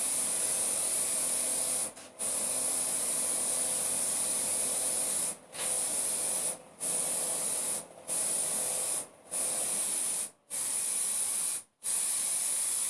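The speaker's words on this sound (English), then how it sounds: "He's spray painting." Steady, close hiss of a spray gun painting a Rover 216Si car, sustained in long bursts broken by several short pauses, with no talking.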